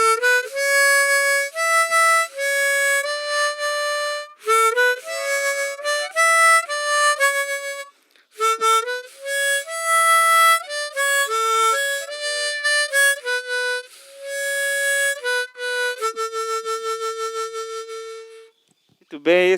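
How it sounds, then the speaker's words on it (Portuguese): A diatonic harmonica plays a well-known tune in a school music workshop, with clear sustained reedy notes in phrased bursts separated by brief breaths and pauses, close and fairly loud. "Muito bem, esse é o som da gaita diatônica."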